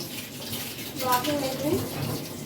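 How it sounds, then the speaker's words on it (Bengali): Dishes being scrubbed and washed under running water at a household sink, a steady wash of splashing and clinking with faint voices nearby. "দিদি এখানে বাসন মাজছে"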